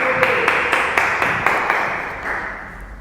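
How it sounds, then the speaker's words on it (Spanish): A church congregation applauding, a dense steady wash of many hands with rhythmic claps pulsing through it, gradually thinning out toward the end. "Denle un fuerte aplauso."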